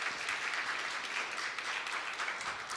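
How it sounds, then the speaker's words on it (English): Applause from a symposium audience thanking a panel, a steady dense wash of many hands clapping throughout, fairly loud and even, with no voices over it. "Hand of applause."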